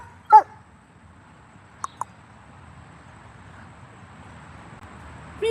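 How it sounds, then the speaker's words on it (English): A Labrador and Border Collie mix dog gives one loud, close bark, then two quick faint yips, and another bark at the end, over a quiet indoor hum. "What are you barking at?"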